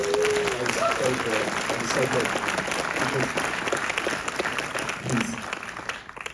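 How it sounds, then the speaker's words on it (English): An audience applauds at a Q&A screening of The Banshees of Inisherin with Martin McDonagh and Colin Farrell, a sustained, fairly distant crowd clapping with a brief murmur of voices underneath. "The applause could have been 2 seconds less"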